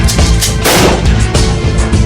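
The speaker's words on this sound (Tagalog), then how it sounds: "Anong putok yun?" Loud gunfire booms close by in a radio drama, several heavy shots in quick succession over a dense rumbling background.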